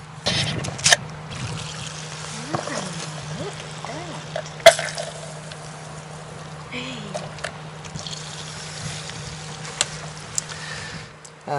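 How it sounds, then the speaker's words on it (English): A hand pump draws diesel fuel out of a boat's tank, giving soft intermittent trickles and gurgles with a few sharp clicks over a low steady hum, fairly quiet throughout. "Stick that in there and do some pumping."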